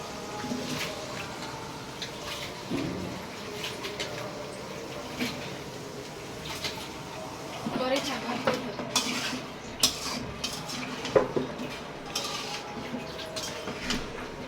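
Spices and vegetables fry in a pan with soft sizzling under repeated scrapes and clinks of a utensil stirring against the metal, fairly quiet and close, with a few louder knocks.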